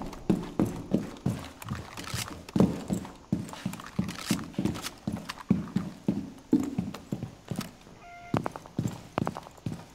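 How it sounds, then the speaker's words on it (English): Heavy footsteps from an enemy player stomp around in the first-person shooter Rainbow Six Siege on the Chalet map, a steady run of thudding impacts close by, repeating throughout with faint game effects. "There's only one left and you can hear him stomping around"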